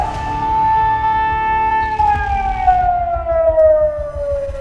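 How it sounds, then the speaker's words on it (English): Air raid sirens blaring over Israeli cities, a loud sustained wailing tone that holds steady and then slowly slides downward in pitch, with faint background noise beneath. "suddenly, the air raid sirens began blaring"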